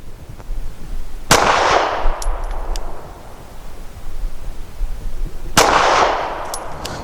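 Two sharp, loud shots from a SCCY CPX-3 pistol firing Liberty Civil Trainer ammunition, several seconds apart, each leaving a ringing metallic tail, outdoors at a range without talk.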